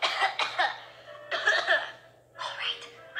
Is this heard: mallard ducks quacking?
no